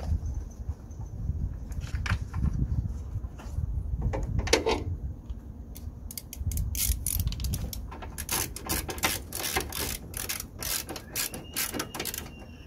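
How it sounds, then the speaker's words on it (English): A 10 mm bolt is driven in to secure the coolant expansion tank on a Ford Focus, producing rapid ratcheting clicks that grow denser toward the end, close up with a low background rumble. "Ten mil bolt, just gonna drive it through here."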